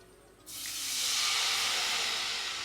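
Water poured into a hot pan while making a semolina and potato paratha bursts into a loud, sustained hiss and sizzle that rises quickly and holds steady, with no talking.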